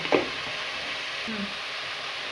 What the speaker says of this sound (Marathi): त्याच्या हा मसाला भाजायला लागलेला आहे